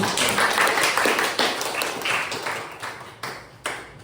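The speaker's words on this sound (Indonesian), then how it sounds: "tepuk tangan untuk kelompok" Scattered clapping from a group of teachers in a coaching session, applauding a presenting group: a brief, uneven patter of hands that thins out into a few separate claps toward the end.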